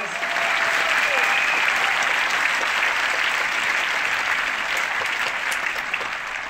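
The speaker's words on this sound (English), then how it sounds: "So another big round of applause," A large audience gives a big, sustained round of applause, loud and dense from start to finish with no break in the clapping.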